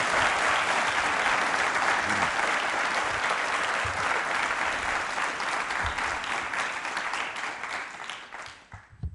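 A large audience at a school quiz show claps steadily in a full, continuous round of applause that thins out and fades in the last second or so.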